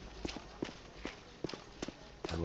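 Horse hooves in a video game clop in a steady, regular rhythm, about five distinct hoof strikes in a couple of seconds, moderately close and clear with no talking over them.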